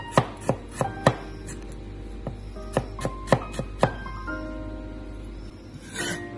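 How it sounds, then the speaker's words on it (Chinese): A knife slices peeled fresh ginger into thin slices on a cutting board in a home kitchen, giving about ten crisp, close chops in an uneven rhythm with short pauses between them, heard alone without talk. "将生姜切成薄片"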